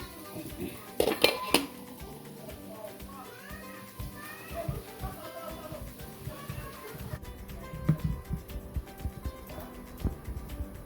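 Metal pots and utensils clatter nearby as a lid goes onto a pot of horsegram idli batter, with scattered clinks and knocks. Voices murmur in the background.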